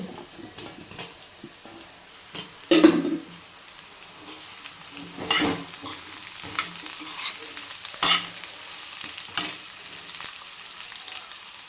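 Washed drumstick pieces dropped into hot oil in a pan for a curry, sizzling softly with several sharp stirring clinks and scrapes spaced through, no talking.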